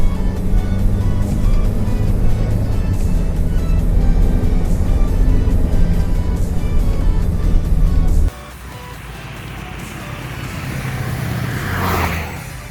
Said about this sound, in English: So I'm at 40 right now, and the car effortlessly pulls.